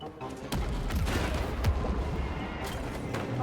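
Video game gunfire sounds as a quick volley of sharp shots and booms, fairly close and loud over a busy game background.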